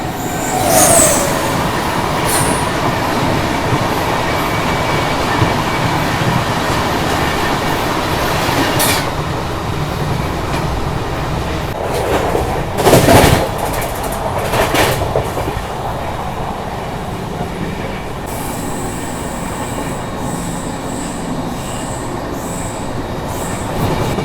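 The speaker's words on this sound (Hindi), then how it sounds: "अभी सामने से आ रही है अलेप्पी चेन्नई एक्सप्रेस" The Alleppey Chennai Express rolls past close by, a loud steady rumble of wheels on rails with rhythmic clacking and occasional sharp squeals and bangs, with no voices over it.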